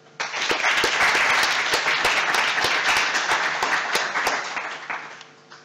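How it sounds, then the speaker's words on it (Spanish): Audience applause at a technology conference opening session on fintech, a dense wash of many hands clapping that swells quickly, holds steady and loud, then tapers off near the end. "Un fuerte aplauso para ellos."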